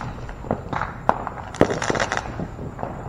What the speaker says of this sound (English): All these damn flashbangs popping off.